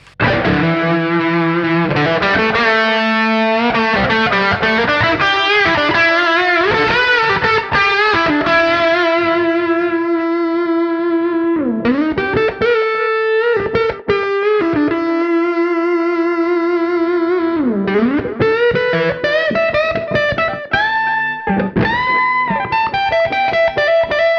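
Distorted electric guitar, a 2020 Epiphone Les Paul Junior, playing a melodic line with sustained, bending notes, loud and continuous throughout, no voices.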